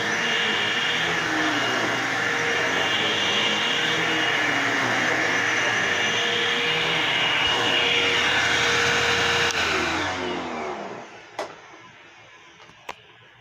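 A vacuum cleaner found in a dumpster runs with a steady, strained whine that seems slightly clogged, holding for about ten seconds before it winds down, followed by a couple of small clicks.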